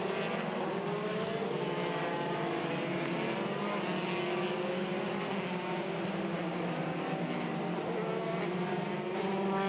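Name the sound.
Formula 3 race cars driving under safety car at Spa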